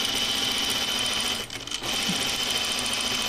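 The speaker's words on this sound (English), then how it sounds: "I'm going to stitch this pocket down to the front" Sewing machine running steadily while stitching a pocket onto the front of a thin shirtdress fabric, a close, even mechanical whir that pauses briefly in the middle before resuming.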